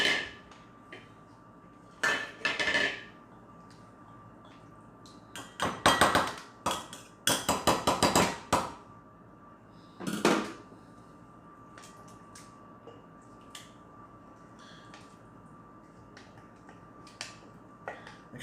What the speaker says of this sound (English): So take all this out, put it in a new bowl.